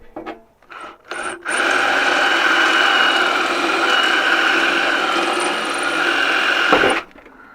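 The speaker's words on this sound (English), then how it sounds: "I'm gonna drill them out." A power drill grinds steadily through rivets in the base of a Schumacher automotive battery charger, a sustained close whine with a mechanical rattle that runs for about six seconds before stopping abruptly.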